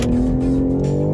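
A 2024 BMW M3 CS on a racetrack, its engine droning loud and steady at high revs with a sustained tonal whine, heard from inside the car with no talking.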